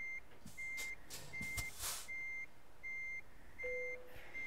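Reversing beeps from a Scania truck backing up a trailer in Euro Truck Simulator 2, a regular series of short, moderately loud electronic beeps, while someone talks over part of it.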